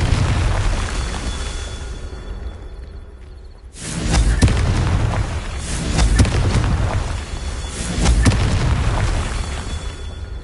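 Blasting spell explosions from Hogwarts Legacy, a series of loud booming bursts that swell and fade in waves over a rumbling low end, following a brief quieter lull.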